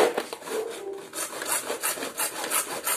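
Hand sawing with a bare saw blade while building a water float valve for an underground tank at home, a steady back-and-forth rasping of repeated strokes, close and fairly loud, with no talking.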